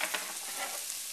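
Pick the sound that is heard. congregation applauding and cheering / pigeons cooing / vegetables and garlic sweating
vegetables and garlic sweating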